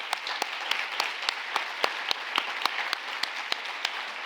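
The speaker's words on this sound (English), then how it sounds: "Let's give him a big round of applause." A symposium audience applauds steadily, a dense wash of clapping with sharper individual claps standing out at a fairly regular pulse, sustained at moderate level without talk.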